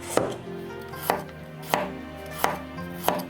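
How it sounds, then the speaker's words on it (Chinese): A kitchen knife slices a small carrot into thin pieces on a cutting board, giving five evenly spaced sharp chops close up with nothing else heard. "再准备一小块红萝卜，切成薄片儿"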